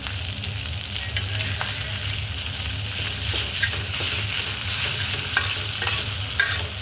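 Fish roe fries in a pan after being flipped, a loud, continuous crackling sizzle with scattered sharp pops and spatters close by, steady throughout and without any talking.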